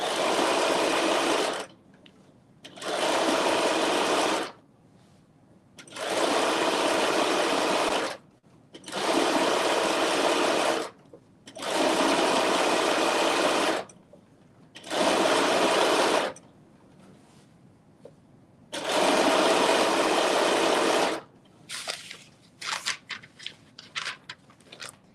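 A sewing machine stitches understitching on a dress in seven loud, steady bursts of a few seconds each, separated by short pauses, then ends with scattered light clicks and handling noises.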